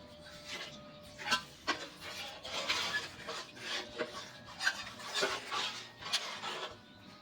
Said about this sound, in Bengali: গুড়টা অবশ্যই ঠান্ডা করে দিতে হয় না হলে ফেটে যায় নাড়া দেওয়া একটু